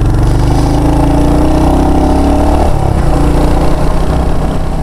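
A Royal Enfield motorcycle idles loudly and close by, a steady low thumping rumble with a slight dip in pitch midway, heard on its own.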